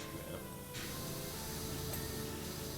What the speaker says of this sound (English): I haven't been picking a spot to clean. I've just been spraying all over the place.